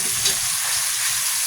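Onion and tomatoes sautéing in a pan, a close, continuous sizzle with faint stirring scrapes and no voices.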